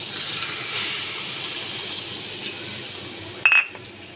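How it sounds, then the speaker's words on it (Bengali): A bowl of water poured into a simmering tilapia fish curry gives a steady close hiss of steam, ending in a brief metallic clink. "1 বাটি জল দিয়ে দিচ্ছি।"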